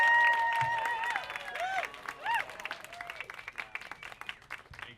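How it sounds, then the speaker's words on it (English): An audience at a Nerd Nite lecture gives a big round of applause for the next speaker, dense clapping loud at first then thinning and fading out, with scattered whoops and voices mixed in. "Big round of applause for Sam!"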